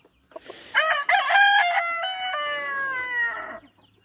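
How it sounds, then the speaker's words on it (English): A chicken at a homestead hatchery gives one drawn-out, crowing call lasting a few seconds after a short rustle. It is loud and close, with no talking. "Look at the smallest chicken in the world right there."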